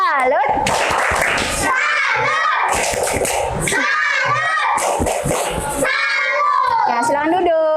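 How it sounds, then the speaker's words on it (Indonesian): A school class in an Indonesian science lesson joins in a patterned salute clap, bursts of sharp unison hand claps alternating with children's chanting and a teacher's voice, loud and close. "tepuk salut dulu untuk kelompok 4"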